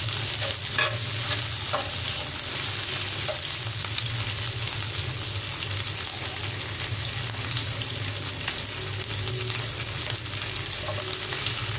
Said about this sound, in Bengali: নাড়াচাড়া করে ভেজে নিচ্ছি।